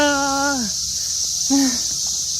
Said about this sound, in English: there's a whole bunch of cicadas